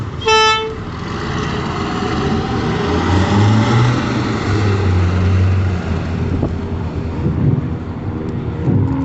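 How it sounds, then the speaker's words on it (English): A LAV 3 armoured vehicle, a Canadian-designed military vehicle, drives past at a winter warfare display, its loud steady engine drone and rumble filling the scene after a brief horn toot at the start. "let's see that LAV go one more time."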